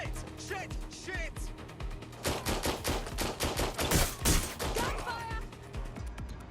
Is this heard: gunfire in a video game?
yes